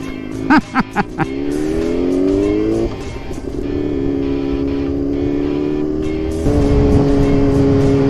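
A Yamaha R6 motorcycle engine roars loud and close while riding on a chilly day. Its pitch climbs, then drops at gear changes around three and six and a half seconds, after a few short sharp bursts at the start.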